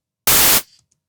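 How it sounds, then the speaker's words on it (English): A synthesized white-noise clap impulse plays once as a short, bright burst of hiss that cuts off quickly and leaves a faint, brief tail, with nothing else sounding. "I select white noise"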